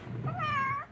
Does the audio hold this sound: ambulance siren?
no